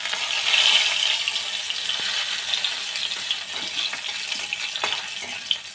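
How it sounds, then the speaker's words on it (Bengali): Black cumin seeds and dried chillies tempering in hot oil in a kadai, a steady fine crackling sizzle with small pops and occasional stirring clinks, close and continuous with no talking. "তেল দিয়ে ওর মধ্যে সামান্য আবার একটু কালো জিরে ফোড়ন দিলাম, শুকনো লঙ্কা ফোড়ন দিলাম"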